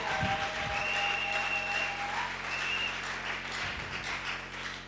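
A church congregation at a French-language sermon applauds and cheers together, a steady wash of clapping and crowd noise held throughout, with a few tonal voice cries rising over it.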